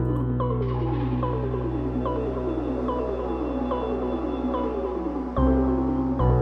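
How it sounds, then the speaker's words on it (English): A dense synth texture run through crystallizer and reverb: shimmering tones glide downward in repeating cascading sweeps over a steady low drone, with a brief shift in the low layer near the end. No voices. "I've thrown on a bit of crystallizer and also a bit of reverb to help kind of like transform the crystallizer."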